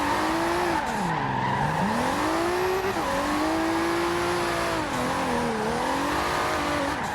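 A Toyota GT86 with a single turbo in the video game Forza Horizon 2 holds a loud, continuous engine drone, its pitch dipping and rising with throttle and shifts, with faint tire squeal along the way.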